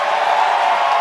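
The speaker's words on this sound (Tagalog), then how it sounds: "Look at this crowd" A professional basketball home crowd in an arena cheers in a dense, steady roar, loud and continuous with no distinct individual voices.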